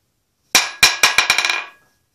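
Hammer blows rebounding on a hardened tool steel anvil, a ringing strike followed by a quickening series of about seven bouncing taps that fade out, close and loud, no voices.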